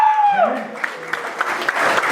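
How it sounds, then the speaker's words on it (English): Applause from an audience at a live Italian Americans in Baseball preview event, a steady patter of clapping that rises after a brief voice at the start and carries on with a voice over it. "So let's give Jeremy another round of applause."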